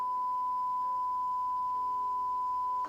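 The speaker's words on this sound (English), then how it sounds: "you just heard that beep" A steady, unbroken censor beep tone runs through the whole stretch on a live stream, covering profanity at an even level with no talk around it.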